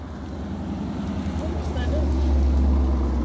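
A loud car engine rumbles nearby at a low, steady pitch and slowly swells in volume, with voices faint in the background.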